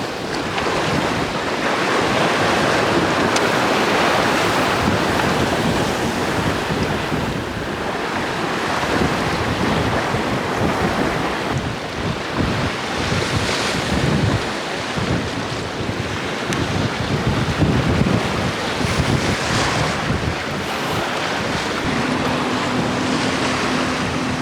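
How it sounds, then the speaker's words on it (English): Sea waves and steady wind roar around a small 21-foot sailboat under sail near a harbour, a continuous loud wash with gusting microphone buffeting throughout and no talk. "yeah, the waves aren't too bad."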